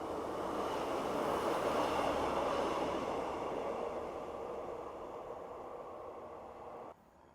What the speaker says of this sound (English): Please don't tell me I've got a train coming.